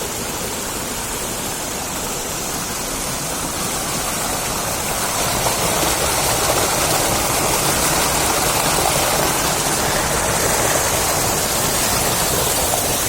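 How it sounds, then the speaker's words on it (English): River water flows beneath a bamboo bridge with a steady, loud broadband rush that swells slightly halfway through, no voices over it. "That is water."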